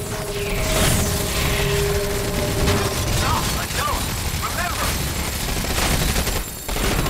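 Enemy gunfire in the mech shooter Front Mission Evolved, a continuous loud rattle of automatic fire with impacts and mechanical clanks, overlaid by a player's pained voice and game noise.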